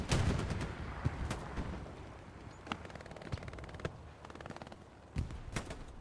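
Rocket impacts in Hell Let Loose, a World War II shooter, as a Puma armored car is engaged near a flak position: several sharp blasts land at irregular intervals over a continuous rumble of distant battle.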